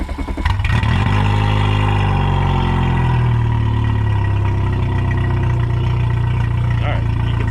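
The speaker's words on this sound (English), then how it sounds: "All right, you can see the engine's come alive." A 2008 Mercury 115 four-stroke EFI outboard engine cranking and starting up, then settling into a steady, loud idle up close with a smooth, constant hum.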